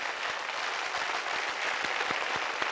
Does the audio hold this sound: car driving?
no